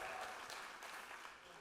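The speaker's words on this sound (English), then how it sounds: "Another round of applause, please, for Michelle and Adrienne." An audience at a literary reading claps in brief, steady applause, a soft wash of many hands heard from a distance and fading slightly toward the end.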